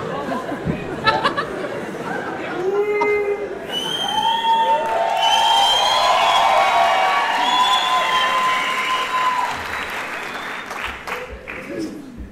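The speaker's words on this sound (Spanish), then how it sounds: "Fuerte el aplauso, que se caiga el teatro, para el señor Gonzalo Valderrama." A theater audience at a Colombian comedy show breaks into loud, sustained applause and cheering for a comedian, with whoops and shouts over dense clapping that builds and holds for several seconds before easing off, while a voice speaks over the crowd.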